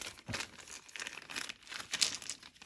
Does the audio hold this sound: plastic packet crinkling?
yes